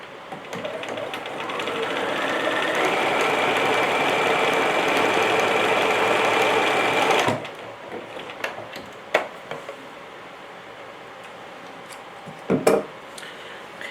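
Domestic sewing machine running a zigzag test stitch, a steady close motor whir with rapid needle chatter for about seven seconds, then stopping, followed by a few light clicks and handling knocks.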